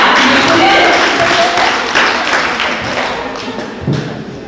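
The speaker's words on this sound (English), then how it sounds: "Let's clap for her." Seminar audience claps for a participant at a soft skills session, a loud burst of hand clapping that gradually fades over a few seconds, with a few thumps mixed in.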